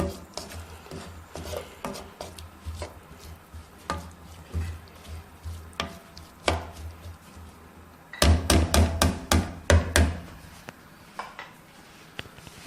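A spoon scrapes and knocks against a pan as a masala mixture is stirred, giving a series of irregular clacks and rubbing strokes that grow louder and more rapid toward the end.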